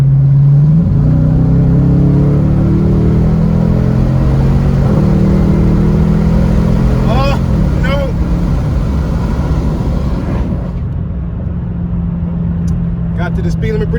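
A 2021 Dodge Challenger R/T accelerates hard in sport mode, its engine note climbing loudly through several rising sweeps before settling into a steady cruise drone, with voices talking over it.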